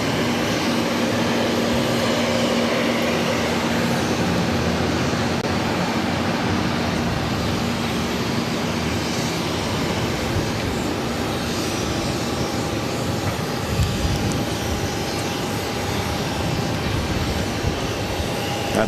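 An Airbus neo airliner at Boston Logan gives a steady, loud engine roar that holds for the whole stretch, with a faint sustained tone running beneath it and no voices.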